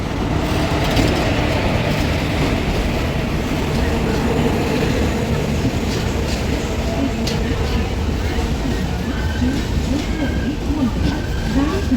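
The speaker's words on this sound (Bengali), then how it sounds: "এই যে ট্রেন চলে এসেছে" A train rolls steadily past at close range as it arrives at a station, a continuous low rumble with faint squeals of wheels on the track.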